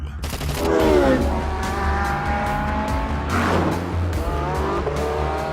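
Race cars lapping a circuit in Portugal, driven hard by a former Formula One and Formula E driver: loud sustained engine roar with rising and falling revs, gear changes and tire squeal through the corners, no talk.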